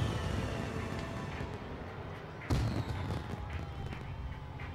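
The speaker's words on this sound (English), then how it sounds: "Then the land artillery will arrive." Land artillery fire, a rolling low rumble of distant guns with one sharp, louder blast partway through, all under a faint background.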